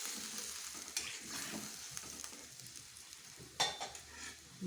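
Maan kochu (giant taro) simmering in hot water in a pan is stirred, with a soft bubbling sizzle under scattered scrapes and clinks of the utensil against the pan, close and fairly quiet.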